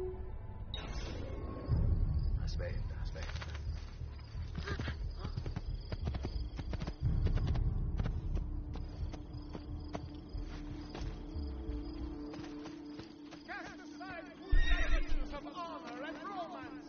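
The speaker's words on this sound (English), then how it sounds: "vou ter que ir de cavalo" In Assassin's Creed 2 gameplay, a horse whinnies several times over clopping hooves and game ambience. Someone talks now and then over the sound.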